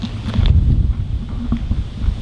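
Gusty wind buffets a microphone outdoors beside a parked truck, giving a steady low rumble with uneven surges throughout and no voices.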